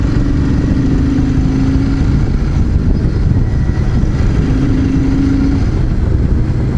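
A Royal Enfield Super Meteor 650 motorcycle cruises along an open road at a steady pace, its engine droning continuously under strong wind rush, with two brief tonal whines rising faintly above the rumble.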